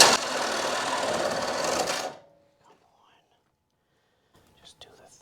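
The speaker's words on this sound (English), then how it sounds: "So we're gonna cut the Sawzall and see where we get." A Sawzall reciprocating saw cutting into a box Chevy car body makes a harsh, buzzing rasp for about two seconds, then cuts out to near silence, with only faint scattered clicks afterward.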